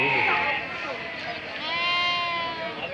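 Lambs or goat kids bleat at the Tumakuru livestock market, a couple of drawn-out, quavering calls, nearby and moderately loud above crowd chatter and voices talking.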